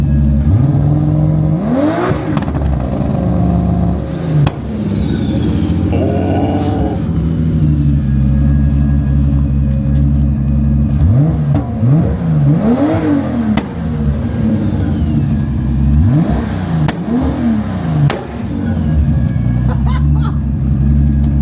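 A drift car engine with anti-lag revs hard in repeated rising and falling bursts over a deep, steady rumble, loud and close, with sharp pops and crackles between the revs.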